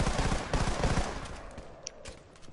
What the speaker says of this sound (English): It burst fires, so it's not a full automatic